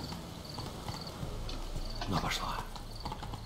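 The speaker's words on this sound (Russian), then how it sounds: "А, единорог, иди сюда." Hooves of a unicorn horse clip-clopping in Witcher 3: Blood and Wine, a moderate rhythmic beat under a voice, with a brief whinny partway through.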